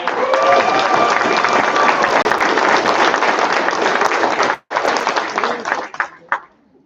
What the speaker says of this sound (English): All right, let's give this group of men another round of